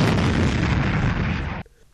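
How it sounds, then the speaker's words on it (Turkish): A one-ton HABRAS bomb striking a reinforced concrete target at 1850 km/h on a rail test track, a loud roaring explosion held for about a second and a half before cutting off sharply. "Saatte 1850 km hızla 1 metrelik çelik donatıyla güçlendirilmiş beton hedefi deldi."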